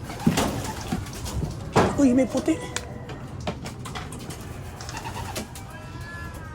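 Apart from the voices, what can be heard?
pigeons cooing in a loft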